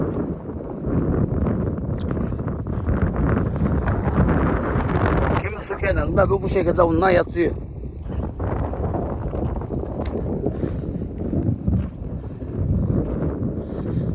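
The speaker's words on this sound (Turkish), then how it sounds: "Burada rüzgar var." Steady wind by a reservoir buffets and roars across the microphone outdoors, with a person talking briefly over it.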